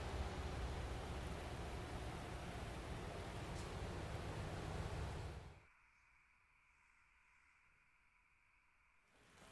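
Steady heavy rain in American Truck Simulator, a dense broadband hiss heard from inside a day cab, holding loud for several seconds before abruptly dropping to a muffled, quieter patter.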